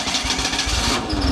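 A wood-gas truck engine, fed by gas from wood pellets passed through two filters, cranks and catches after several tries, a loud rough low rumble with pulsing bursts and a rising tone near the end.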